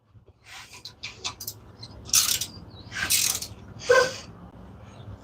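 A torque wrench ratchets on a Hemi 5.7L engine in a Dodge Magnum, giving scattered clicking bursts and a few sharper, louder ratcheting sweeps alone without talk.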